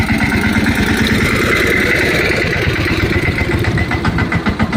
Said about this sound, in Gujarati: ત્યાં મારે ટ્રેક્ટર આવવા દીધો